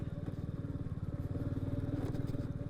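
A Royal Enfield motorcycle revs steadily while offroading on a rough trail, its close, pulsing engine thump rising slightly in the second half, with no talk over it.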